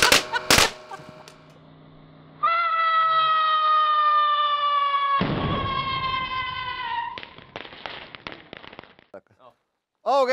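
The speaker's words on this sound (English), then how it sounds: "Got small explosion" Fireworks burst while a hydraulic press crushes them, giving sharp cracking pops followed by a loud sustained whistling screech and a crackling hiss, then a final crack, with voices partly audible.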